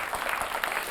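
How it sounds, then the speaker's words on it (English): Brief burst of audience applause at a spelling bee show as a stationery representative is called on stage, a short even wash of clapping from the crowd. "Can we get a round of applause for Nazia?"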